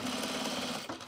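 A sewing machine runs steadily and loudly at close range while stitching a replacement waistband onto a pair of Ames jeans, with a dense continuous mechanical whir that briefly shifts near the end.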